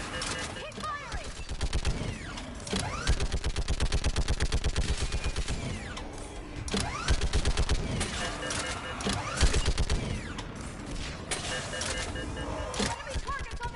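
Automatic gunfire in Mass Effect, with rapid sustained bursts rattling through a battle scene, mixed with distant shots and mechanical noise as voices call out orders over the combat.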